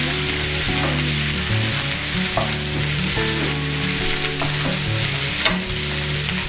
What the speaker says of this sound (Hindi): इसको 2 मिनट हम भूनते हैं ताकि हमारे लहसुन अदरक का कच्चापन सारा निकल जाए।